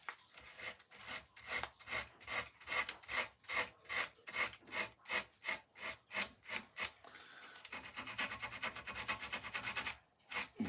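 Sandpaper rubbed back and forth over a wood carving, a steady rhythmic rasp of long even strokes close by, turning into faster, shorter scrubbing near the end, with no talking.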